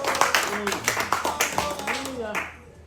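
A church congregation claps in rhythmic applause to acclaim the Lord during a prayer service, with voices mixed in throughout before it fades at the end.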